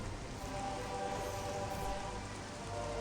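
Steady, dense rain patters continuously in Metroid Prime Remastered, a broad even hiss falling onto surfaces with no other sounds over it.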